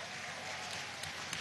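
A crowd applauds at a political campaign gathering in El Valle, Caracas, steady clapping at moderate distance with a few sharper claps, slightly noisy.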